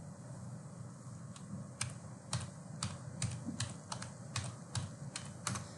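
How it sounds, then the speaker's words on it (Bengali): A phone number being typed on a computer keyboard, heard as a quiet, irregular series of light key clicks over a faint steady background hum. "তো আমি আমার ফোন নাম্বারটা এখানে দেই।"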